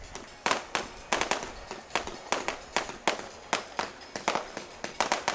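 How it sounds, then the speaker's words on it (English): Fireworks at a holiday boat parade along a marina crack and pop in a steady rapid series of sharp bangs, each decaying quickly, heard from a moderate distance with no talk. "these fireworks can be seen not just here at the North Palm at the marina, but all along the parade route"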